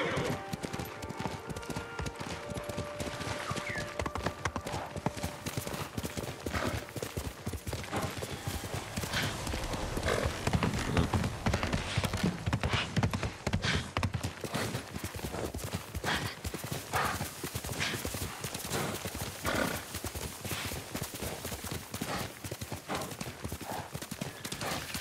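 Hooves pound in a rapid, continuous galloping rhythm for the whole stretch in the video game Ghost of Tsushima, close and steady, with a horse whinnying early on.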